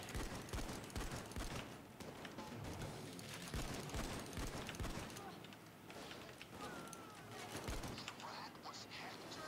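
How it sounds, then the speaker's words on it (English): Gunfire at a heist in Payday 2, with repeated sharp shots scattered across the stretch, among them a sniper rifle shot, under and between players talking. "Oh, I heard a sniper."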